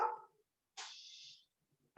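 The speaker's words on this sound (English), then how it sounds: "I have the same problem with my dog, Marston." A small dog gives a couple of short, sharp barks or yips, faint and distant in an otherwise quiet room, with silence between them.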